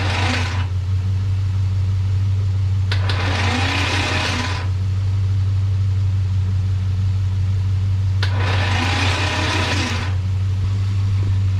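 A 3rd gen Chevrolet Camaro engine, not run in ten years, cranks in three separate bursts of a rhythmic starter churn over a constant low electrical hum.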